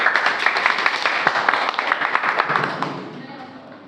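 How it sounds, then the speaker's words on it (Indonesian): An audience claps after a classroom group presentation, with quick scattered applause that thins out and fades over a few seconds and some voices underneath. "Beri tepuk tangan."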